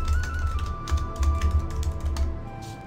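Quick, uneven computer keyboard typing, close and clear, a steady patter of key taps with brief pauses, no talking.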